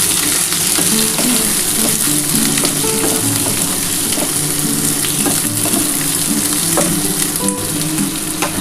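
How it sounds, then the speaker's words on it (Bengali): Potatoes and onions fry in a pan with a steady, loud sizzle and crackle that continues without a break. "দেখো আমার আলু আর পেঁয়াজটা কিন্তু ভাজা ভাজা হয়ে এসছে"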